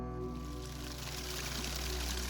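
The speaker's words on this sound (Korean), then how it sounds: "폭포 소리가 한층 커짐에 따라 분위기가 긴장되는 걸 느낍니다" Waterfall roaring steadily in a forest near a shrine, a continuous broadband wash of falling water that stays fairly even and full throughout, with no voices.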